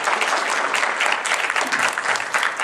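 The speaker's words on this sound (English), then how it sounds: "So everybody give him a big round of applause for him." Brief burst of dense, enthusiastic applause from a crowd at a 2019 Vasant Panchami community program, steady and loud throughout with no pause.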